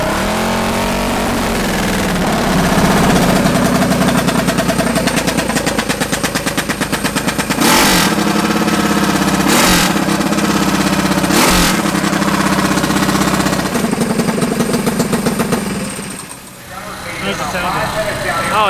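A racing go-kart engine runs loud and close at a go-kart race, a steady rapid popping drone held for most of the stretch with a few sharp revs, then briefly dropping off near the end.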